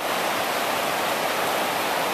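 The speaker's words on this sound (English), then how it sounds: "there's a huge river running through the parking lot" Flood water from the 2013 Lyons flood rushing like a river through a parking lot, a loud, dense, continuous roar with no break.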